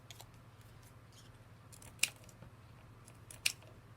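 Scissors snip paper into shapes for a collagraph plate, giving two crisp, close cuts spaced about a second and a half apart over a quiet low hum.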